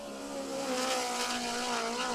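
A USAC National Midget race car running laps on a track during qualifying, its engine a loud sustained high-revving whine with wavering pitch, alone without voices.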